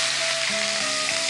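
Dried red chili, curry leaves and onion frying in a pan, giving a steady, close, even sizzle that runs the whole time without a break and with no voices over it.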